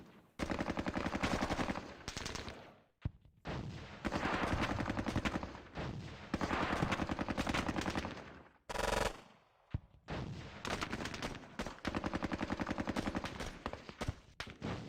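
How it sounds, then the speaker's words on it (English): Vietnam War video game battle at Hue City, near the Perfume River, with dense bursts of automatic gunfire and rifle shots in long loud volleys broken by brief pauses and one sharp blast. "They're just firing wherever the hell we are."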